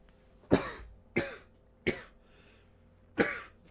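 Four separate harsh coughs, close and loud, the first three spaced about a second apart and the last after a longer pause.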